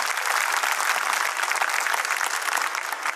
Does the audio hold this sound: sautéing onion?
no